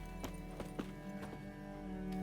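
Horse hooves clip-clop in The Witcher 3 over a steady game soundscape, with several distinct hoof thuds spaced unevenly in a slow gait, fairly close and moderately loud.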